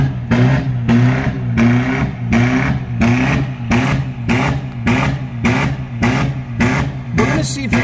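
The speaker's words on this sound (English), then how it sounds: "he's gonna take it to the rev limiter" A car engine held at the rev limiter, bouncing in a steady, rapid stutter of near, loud pulses roughly twice a second for the whole stretch.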